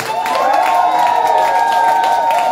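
A church congregation cheers and shouts for joy, a loud, sustained wash of crowd voices with a held tone running through it, lasting the whole brief moment.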